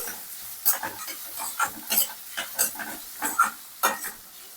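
Mushroom pieces fry in oil seasoned with salt and turmeric, a steady close sizzle broken by repeated scraping stirs of a spoon against the pan, each stroke a short bright burst over roughly five seconds.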